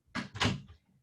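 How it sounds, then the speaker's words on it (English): A door is pushed shut indoors, giving two quick, soft thuds close by with a brief latch rattle and no voices over it. "I'm going to shut this door."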